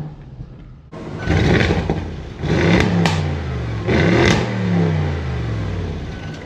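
An Audi RS7's engine fires up with a sudden loud roar, then is revved hard three times in quick succession, each surge rising and falling back to a rumbling idle close by.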